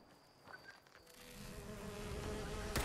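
Bee creature buzzing in Fallout 76, a faint insect drone that starts quietly and swells steadily louder over a few seconds, with thin tonal hums above it and no talk.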